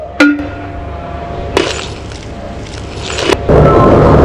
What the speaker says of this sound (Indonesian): kita pecahkan dengan martil